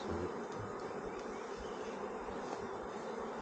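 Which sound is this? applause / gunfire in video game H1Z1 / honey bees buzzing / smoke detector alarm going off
honey bees buzzing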